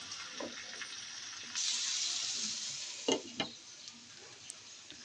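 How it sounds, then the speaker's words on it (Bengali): Winter vegetables stirred with spices in a pan make a continuous soft sizzle that turns louder partway through, with a couple of sharp scrapes or knocks from stirring. "এবার মশলার সাথে সবজিগুলোকে খুব ভালোভাবে মিশিয়ে নেব।"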